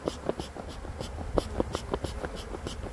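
Busy buzzing of many honeybees close by at the hive, with irregular ticks and taps layered over the drone, and no one talking.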